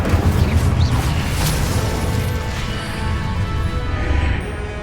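A fire spell, Incendio, erupts in the Hogwarts Legacy video game as a dense, continuous roaring burst with booming low rumble, loud and sustained for several seconds without any voices.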